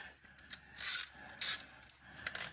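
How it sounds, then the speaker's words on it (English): Ratchet snugging up the rear shock bolts on a 2016 Nissan Murano, heard as a few short bursts of rasping clicks close by, with quiet gaps in between. "I'm just going to put my ratchet on it"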